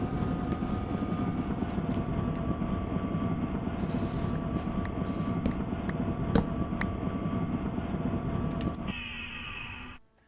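A steady, droning helicopter engine roar with rotor-like hum in a video game runs for about nine seconds during landing, then cuts to a brief different tone before fading out.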